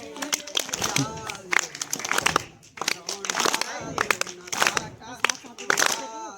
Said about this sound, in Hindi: ताली ताली बजाओ, ताली बजाओ।